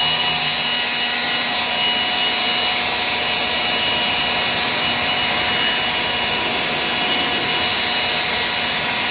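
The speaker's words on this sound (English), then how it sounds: "we'll be here for a while if we try and use the leaf blower to get all of it dry" A loud, steady roar of a leaf blower running continuously, broadband and unbroken with a faint high whine, close to the listener.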